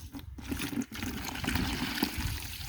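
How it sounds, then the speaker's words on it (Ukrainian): Hot water pours into a plastic container holding a copper sulfate and lime mixture, a steady close rushing trickle with brief gaps near the start, no talking. "Висипали в пластмасову посудину і заливаємо гарячою водою."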